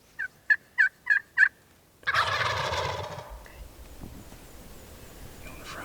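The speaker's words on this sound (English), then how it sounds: "the birds are so fired up they respond to the call and start coming back" Wild turkey gobbling five times in quick succession, loud and fairly close, answering a hunter's call in the woods, followed by a burst of rustling and shuffling that fades into quiet outdoor ambience.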